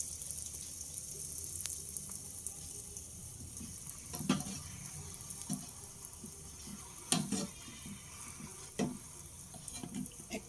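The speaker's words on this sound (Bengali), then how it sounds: "তেলটা গরম হয়ে এলে এক চামচ ব্যাটার নিয়ে আমি দিয়ে দেবো" Spoonfuls of batter for chocolate poa pitha fry in hot oil in a wok, giving a steady, fairly quiet hiss with occasional louder spatters and utensil taps.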